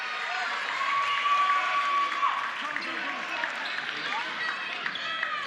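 Murray State basketball crowd roaring steadily after an and-one play by Garrett at an NJCAA Region II men's quarterfinal, a dense, sustained wash of cheering and applause with a whistle tone early and announcer talk over it.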